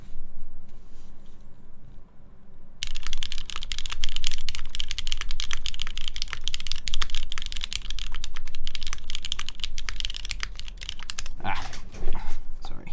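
Rapid, steady typing on a mechanical keyboard fitted with linear MX Black switches lubed with Tribosys 3203, close and continuous after a quiet start, with a brief dog whimper near the end.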